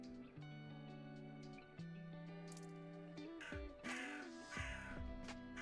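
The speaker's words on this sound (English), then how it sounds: "We're getting attacked by crows." Crows caw repeatedly in a video game, loud harsh calls layered over a sustained tonal game music bed, several overlapping caws clustered in the second half.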